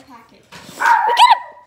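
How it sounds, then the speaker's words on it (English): A pet dog indoors gives a short, loud bark, close by and overlapping someone talking. "Sorry, that's our dog."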